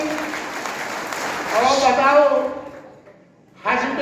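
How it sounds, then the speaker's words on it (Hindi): Audience applause at a Hindi-Urdu poetry recital swells as dense, steady clatter for a couple of seconds, with a voice speaking over it as it fades, then talk resumes loudly. "जोरदार तालियां एक बार बजा दीजिए"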